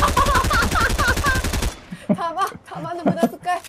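Rapid automatic gunfire in Fortnite rattles loudly and close for about a second and a half, a dense string of shots, then stops as people talk and laugh.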